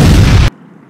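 A single loud bomb blast in the online superhero game Green Lantern Heroes Online World, a heavy booming burst cut off sharply into near silence.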